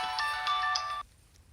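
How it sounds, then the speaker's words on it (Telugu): An incoming call sets off a bright, melodic phone ringtone that plays for about a second and then cuts off abruptly, leaving near silence. "అలాంటి సిచ్యువేషన్లో పెరిగొచ్చిన నాకు రీసెంట్గా ఒక ఫోన్ కాల్ వచ్చింది."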